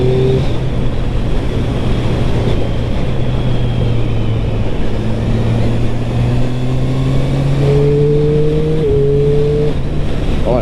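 A 2023 Triumph Street Triple RS motorcycle engine runs steadily under load, with its pitch dipping and rising as it downshifts through gears using the quickshifter, alone and fairly loud.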